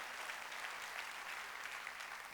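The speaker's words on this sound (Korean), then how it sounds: "박수로 하나님께 영광을 돌려야 될 거 아니에요." A church congregation applauds during a Sunday worship service, a steady, fairly faint wash of many hands clapping continuously, with no voices standing out.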